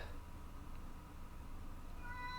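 A house cat meows nearby, a short soft call rising at the very end over a low steady room hum.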